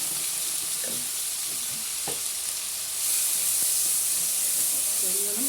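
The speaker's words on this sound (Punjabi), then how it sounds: "ਗੋਭੀ ਨੂੰ ਤੜਕਾ ਲਾਣ ਲੱਗੀ ਸੀ ਚੁੱਲ੍ਹੇ ਤੇ" Spices and cauliflower with potato sizzling in hot oil for a tempering on a stove, a steady bright frying hiss throughout that grows slightly louder midway, with faint clinks in the background.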